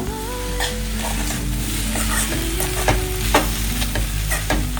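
Poha with peas is mixed in a hot pan: a loud, close sizzle with a low hum beneath it, while busy spoon scraping and clinks come in uneven bursts.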